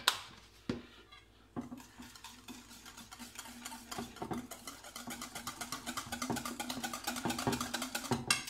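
Burger mixture with vegetable salt and oregano being mixed in a bowl: a spoon scrapes and clicks in a steady rhythm, close and fairly loud, with a few heavier knocks near the start and no talk.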